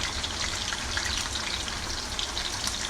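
Chicken deep frying in hot oil in a home kitchen, giving a steady, dense crackling sizzle that stays even and unbroken throughout, fairly close with no voices.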